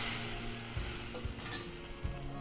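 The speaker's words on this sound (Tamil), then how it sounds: "கொஞ்சமாக கடுகு, கொஞ்சமாக வெந்தயம். இப்போது பொரிஞ்சு வரட்டும்" Mustard seeds and fenugreek splutter in hot oil for a fish curry: a dense, loud, continuous sizzle with scattered sharp pops throughout.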